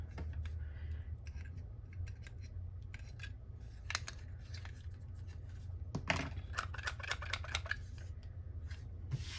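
Scissors snip repeatedly through paper for a botanical field notes journal, the blades struggling at the centre, with close, crisp cuts in irregular bursts, the busiest run of cuts near the end.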